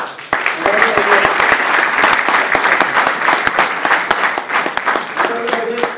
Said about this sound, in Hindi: उन लोगों के लिए जबरदस्त क्लैपिंग हो जाए।